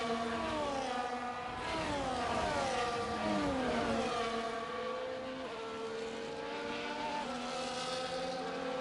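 F1 cars on a formation lap in F1 24 at the Chinese circuit, many engines whining and shifting pitch together in overlapping rising and falling tones, loud and continuous with no speech.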